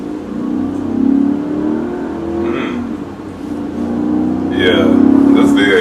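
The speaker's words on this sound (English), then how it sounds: "Yeah, this V8 is so smooth." A BMW E39 M5 with its roughly 400-horsepower V8 pulls while driving, a smooth, steady engine drone that rises gradually in pitch and loudness, heard from inside the car with someone talking over it.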